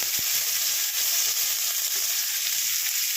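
Onion sizzling in hot oil with cumin, bay leaf and dried red chilli, a steady close hiss with a single soft knock near the start and no talk.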